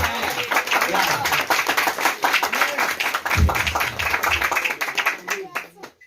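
A church congregation claps and applauds in a dense, steady, loud burst that lasts several seconds, with voices mixed in, before tapering off.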